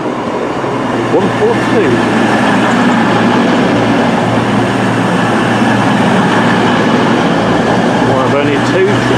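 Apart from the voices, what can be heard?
Virgin train to London Euston at Crewe station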